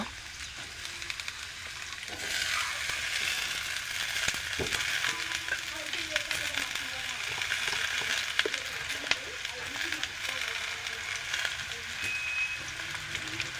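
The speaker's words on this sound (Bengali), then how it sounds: "এখন আমরা আলুটি দিয়ে দেব, হালকা করে কিছু ভেজে নেব।" Thinly sliced potatoes fry in hot oil for a dhenki shak (fiddlehead fern) stir-fry. A steady, close sizzle swells in after about two seconds and hisses on evenly, with faint low tones beneath.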